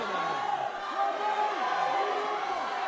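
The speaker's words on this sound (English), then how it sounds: "Aptos crowd going nuts." Crowd roaring and cheering at a 2015 SCCAL high school wrestling match in Aptos, a steady dense wash of many voices with rising whoops, sustained loud throughout.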